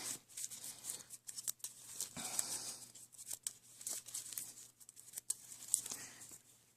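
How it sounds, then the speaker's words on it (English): Soft papery riffling and crisp flicks repeat as a Star Wars collectible card game deck is shuffled close up, quiet with no talking. "So I'm going to shuffle my deck."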